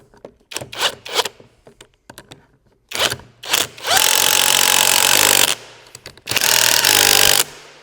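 A power tool drives 10 mm bolts on the handlebar bracket of a 60V 1500W electric quad bike, opening with scattered clicks and knocks, then two loud, sustained bursts of whirring at close range.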